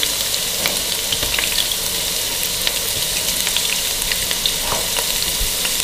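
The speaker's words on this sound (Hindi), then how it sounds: "अब हम डालेंगे अदरक लहसुन का पेस्ट 1 टेबलस्पून भर के।" Ginger garlic paste hits hot oil with fried onions for a mutton kofta curry, giving a loud, continuous sizzle and crackle with small pops and stirring scrapes throughout, no speech.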